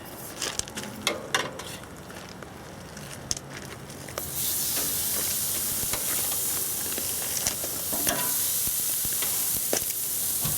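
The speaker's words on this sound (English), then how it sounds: "once the barbecue is at operating temperatures, it's pretty much time to throw on the old steak" Steak is laid on a hot barbecue grill: after a few seconds of light clattering, a loud, steady sizzle bursts in and hisses on, broken by occasional small pops and crackles.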